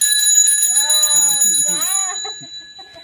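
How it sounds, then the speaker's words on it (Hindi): A new bicycle's bell rings with a bright, sustained metallic tone while a person speaks over it, the ringing fading toward the end. "इसका घंटी भी दे सकते हैं"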